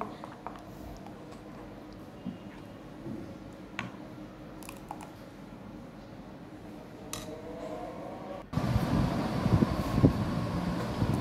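Kholaja pitha batter is mixed slowly in a bowl, with faint scattered clinks and scrapes of a utensil over quiet room noise, turning into louder, denser stirring noise near the end.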